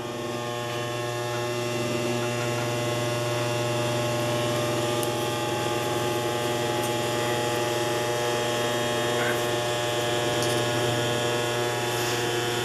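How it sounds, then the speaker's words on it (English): A Singer 211U566 walking-foot industrial sewing machine winding a bobbin gives off a steady, unbroken motor hum at moderate level throughout, with no talking over it. "That's how you fill a bobbin."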